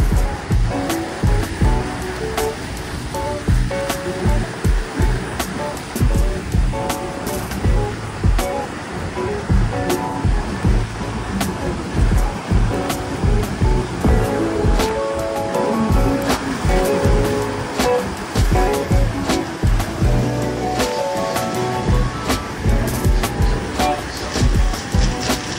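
Niagara Falls roaring up close: a dense, steady rush of falling water fills the whole clip, loud and continuous with constant spray-like hiss.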